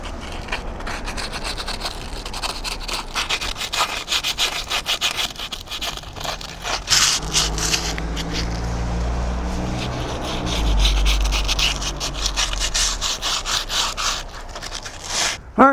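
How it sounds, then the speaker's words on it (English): Sandpaper rubbed back and forth over an odd-shaped surface, a continuous close scratchy scraping with a steady stroke rhythm that grows heavier toward the end. "I'm going to use some sandpaper."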